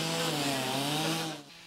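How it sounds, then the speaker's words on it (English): A chainsaw drones steadily while firefighters cut into the roof of a burning house to vent it, the engine holding a sustained pitch and then dropping off near the end. Nobody speaks. "crews used chainsaws to help vent the home"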